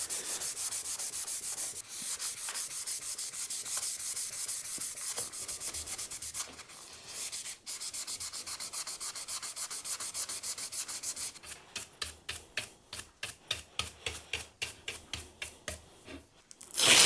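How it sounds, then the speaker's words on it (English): A guitar fretboard is sanded by hand to smooth its surface, with long continuous rubbing strokes that turn into quick, rhythmic back-and-forth scrubs near the end, close and alone. "I'm simply just taking off a little bit of the surface just to get rid of any imperfections."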